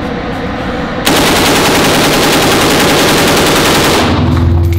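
A full-auto machine gun rips through a 30-round magazine in one loud, continuous burst that starts abruptly about a second in and cuts off near the end, close and dominant over outdoor background noise.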